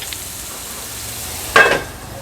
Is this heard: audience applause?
no